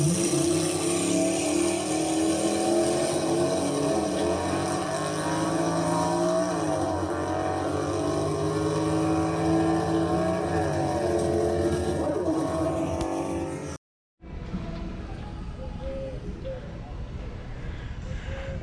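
Steady engine rumble of a car driving, loud and continuous, with a brief cut near the end before the road noise resumes.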